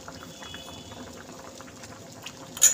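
Chana dal boiling in a pot, a constant close bubbling and popping simmer that runs steadily throughout, with a brief louder clatter at the very end and no speech.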